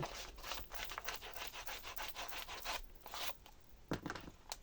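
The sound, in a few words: rubbing with an eraser on paper craft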